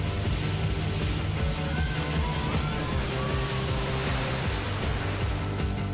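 A powerful motorboat pounding through choppy waves: a dense, continuous roar of engine and rushing water, loud and close, with no voices.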